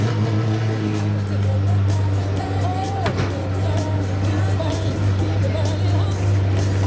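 A Dartmaster P72 supercar at the Salon Privé 2022 parade fires up and settles into a deep, steady engine rumble, close and loud, with crowd chatter and voices around it.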